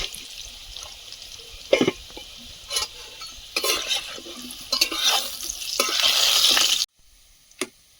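Potatoes being stirred and fried with salt in a pan, a steady close sizzle with repeated scraping stirs of a utensil, stopping abruptly near the end followed by a brief clink.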